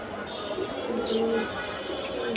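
A male and female pigeon pair cooing together, low soft rolling coos repeating close by under a steady background hum, with someone talking alongside.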